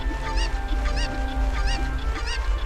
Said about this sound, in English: The chickens are coming!